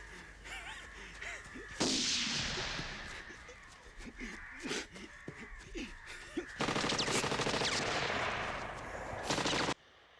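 Gunfire from the 1985 war film Come and See, with repeated sharp shots and bursts of rapid automatic fire in close, loud volleys, separated by quieter stretches where someone talks faintly.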